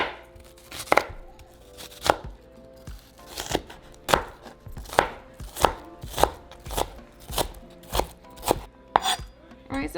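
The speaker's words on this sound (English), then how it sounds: "we're going to cut the other 1/2 of a white onion" Half a white onion is chopped with a knife on a board, crisp, evenly spaced close knocks repeating roughly twice a second, with no talking.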